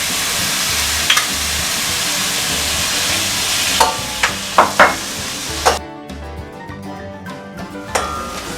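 Onions and tomatoes fry for vada curry in a pan, a steady close sizzle broken by several sharp clacks of a spoon stirring against the metal, with no speech.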